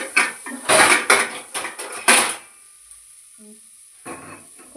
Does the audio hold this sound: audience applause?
no